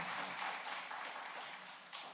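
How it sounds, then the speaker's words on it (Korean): A church congregation claps together during a Sunday morning service, a dense, even wash of applause throughout. "우리 잠깐 일어나면 박수 한번 크게 한번 해주시기 바랍니다."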